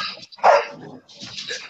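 A dog gives one loud, sharp bark amid the noisy background of a panel show recording with poor sound, followed by fainter muffled sounds.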